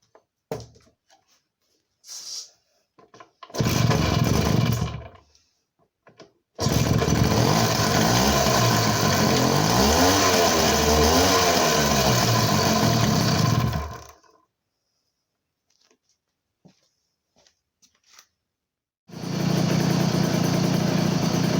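The engine of a Garelli Mini Prix motorcycle, after a carburetor rebuild and fuel tank sealing, is being started: a short burst of engine noise, then a longer stretch of revving with rising and falling pitch, a pause, then running again.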